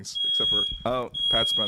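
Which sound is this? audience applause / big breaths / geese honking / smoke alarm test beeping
smoke alarm test beeping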